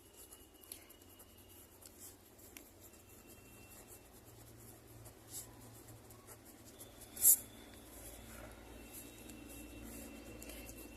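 Faint pen strokes scratch and tap softly as a maths equation is written out, with scattered small marks and one sharper click partway through, all quiet and close with no talk.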